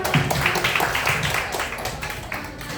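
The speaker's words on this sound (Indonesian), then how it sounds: "terima kasih tepuk tangan untuk kita semua" An audience claps together at a talk session, a dense, steady patter of applause that holds its level for a few seconds.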